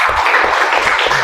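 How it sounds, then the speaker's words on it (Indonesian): Brief classroom applause after an Islamic religious education lesson, a steady wash of many hands clapping together that fills the whole short moment with no voices over it. "berikan tepuk tangan untuk kita semua"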